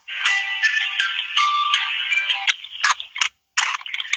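A phone call to PayPal: a bright electronic ringtone-like tone pattern plays steadily for a few seconds, then breaks into short bursts with a brief silent gap.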